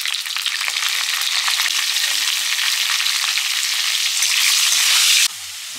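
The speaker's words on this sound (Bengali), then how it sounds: "দিয়ে আলুগুলো ভেজে নেব।" Potatoes fry in hot oil in a wok, a dense, steady sizzle that runs loud and unbroken for several seconds, swelling slightly near the end before dropping to a softer hiss.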